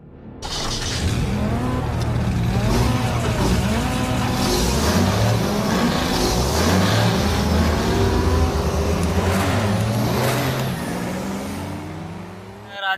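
A motorbike ride in India out to Malancha Ghat and its feeder canal, with steady engine drone and rising and falling revs under loud road and wind noise, plus passing traffic throughout.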